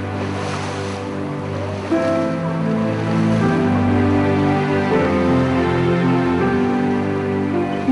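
Sea waves and surf wash continuously along a fishing coast, a broad steady roar mixed with wind buffeting and a low, droning hum underneath, loud and close throughout.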